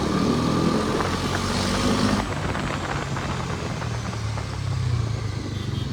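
A Bajaj Pulsar NS 400z with its 373cc liquid-cooled engine runs steadily, a continuous close motor drone that drops slightly in intensity partway through, with no talk over it.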